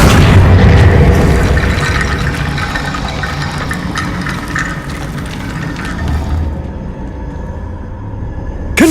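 A Confringo blasting spell detonates in Hogwarts Legacy with a loud booming roar that slowly fades into a long, rumbling, engine-like drone, then drops quieter near the end, with no speech.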